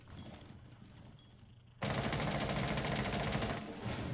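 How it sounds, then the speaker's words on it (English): Quiet ambience gives way abruptly to loud, rapid automatic gunfire in Rainbow Six, a sustained burst of shots close by that fades slightly at the end. "He sees the gunfire."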